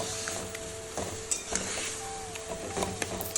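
Hilsa fish heads and taro greens with green chili, salt and turmeric being stirred in a hot pan: a steady close sizzle broken by repeated scraping strokes of a spoon against the metal.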